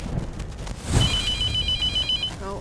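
A telephone rings in The Mortuary Assistant video game: a thud, then a bright electronic ringtone warbling steadily for over a second, repeating after a short gap, heard alone with no talk.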